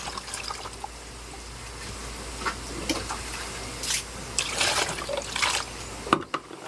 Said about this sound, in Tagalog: naghuhugas ng mga pinag-anuhan, ginamit sa paghiwa.